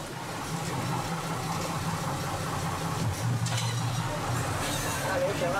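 A struggling bus engine labors with a low, straining drone on a Guatemalan mountain road, rising and vibrating, while people speak quietly in the background.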